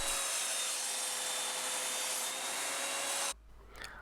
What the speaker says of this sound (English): I used the belt sander to put a basic bevel on it